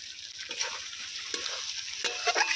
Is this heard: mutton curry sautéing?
yes